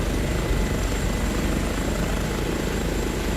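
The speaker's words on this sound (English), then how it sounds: "Jump back in the helicopter here." Airbus H145 helicopter in Microsoft Flight Simulator 2024, a dense, steady rotor and turbine roar with a fast thumping beat, constant and loud throughout with no voices.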